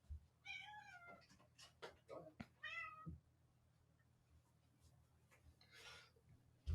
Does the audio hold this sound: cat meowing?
yes